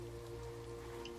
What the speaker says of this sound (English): It's a very rainy start to this episode.